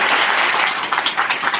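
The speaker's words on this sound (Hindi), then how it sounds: "आप लोग अपने जॉब होल्डर के लिए जोरदार ताली बजाकर स्वागत करेंगे" Loud, dense applause from a gathered crowd welcoming job holders at a shed inauguration, continuous clapping for under two seconds.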